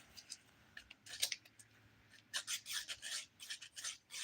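A nail file with a 180 grit side rasps across fingernails in quick, close strokes, irregular bursts of scratchy filing with brief pauses between them, and no talk.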